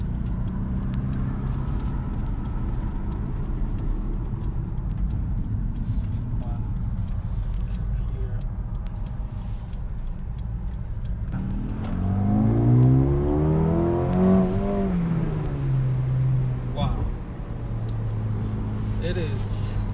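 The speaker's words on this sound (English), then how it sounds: "to see how the M139 engine is going to perform" Mercedes-AMG CLA 35 with the 2-liter M139 four-cylinder, 416 horsepower, driven at night: a steady engine drone under conversation inside the cabin, then rising and falling revs as the car accelerates.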